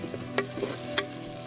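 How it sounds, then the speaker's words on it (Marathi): Chopped onions sauté in hot oil in a pot over a wood-fired stove, a steady soft sizzle with two sharp stirring scrapes, no talking. "आता कांदा परतून घेऊ."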